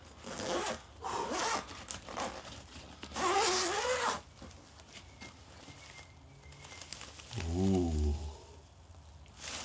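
A zipper being drawn open on a guitar gig bag for a Fender Modern Jazzmaster electric guitar, with a few fabric rustles and handling noises early on before the zip runs in a close, brief pull.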